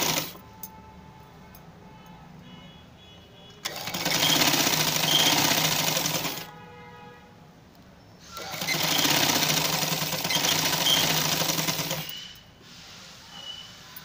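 A sewing machine stitching the frill of a peplum frock runs in two long, loud bursts of rapid, even chatter, separated by quiet pauses and trailing into a third start.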